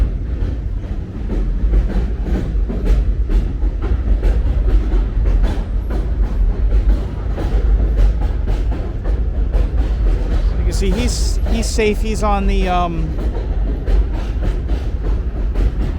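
An elevated subway train rumbles past on New Utrecht Avenue in Brooklyn, a steady clattering roar running at reduced speed with a rising horn-like squeal near the end, while someone talks over it.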